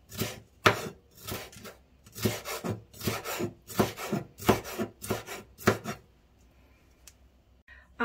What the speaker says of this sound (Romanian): Vă continua să tai fâșii și restul de ardei până îi voi termina pe toți de tăiat.